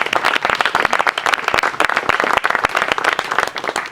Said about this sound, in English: when you clap, it's for Alicia and Round Rock